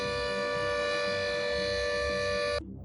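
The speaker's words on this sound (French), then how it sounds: "une alarme bruyante de 2 minutes retentit et est audible dans toute la région" Weekly alarm siren at a psychiatric hospital, a loud steady tonal wail holding for a few seconds and then cutting off abruptly, leaving faint background.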